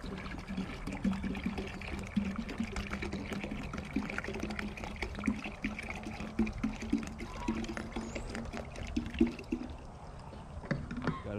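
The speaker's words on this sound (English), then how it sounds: "next we're gonna fill this chamber all the way up with water" Water pours and splashes continuously into a container, a steady close gurgling rush that eases slightly near the end.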